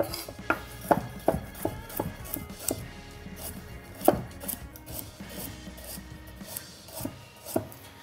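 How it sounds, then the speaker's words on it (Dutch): A knife chops bunch carrots on a cutting board, slicing them into thin, long strips for chicken tacos. The chops come as a rapid, irregular series of sharp, close knocks, with a few louder strikes and no talking. "We gaan de bospeen even mooi fijn snijden."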